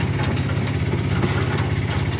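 An auto rickshaw with a breakdown runs at night, its engine chugging in a steady, close, low rhythmic idle with no pauses and no voices over it.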